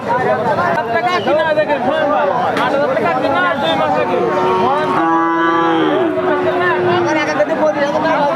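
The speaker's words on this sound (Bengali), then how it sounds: "আট দাঁতের একটা গরু" A cow moos in long, drawn-out low calls amid the steady hubbub of a crowded cattle market, with people chattering loudly all around.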